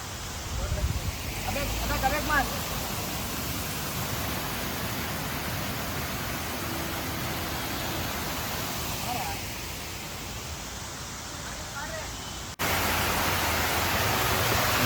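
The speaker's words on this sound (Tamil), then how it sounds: "இப்போ குட்டி ஆறு மாதிரி வருது. அதான் அந்த அருவியை மாதிரி இருக்குது." Steady rushing water of a small waterfall stream spilling over rocks at Honnamma Devi Waterfall, Chikmagalur, a constant close wash of sound with no pauses.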